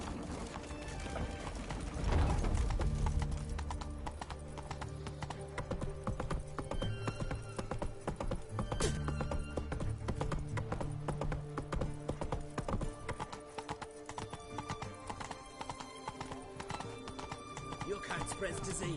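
A horse gallops in The Witcher 3 with a continuous rapid clip-clop of hooves, fairly close, under game music and ambience. A brief voice is heard near the start.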